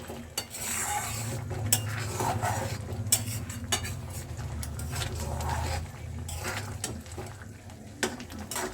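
A spoon stirs egg tarka in a pan after sugar is added, with repeated close scrapes and clinks against the metal over a low simmering bubble and no talk.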